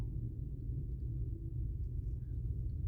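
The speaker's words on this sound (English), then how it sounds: "Either a plane is taking off." A low, steady rumble from a plane taking off at a nearby airport, heard faint and distant, with no talking.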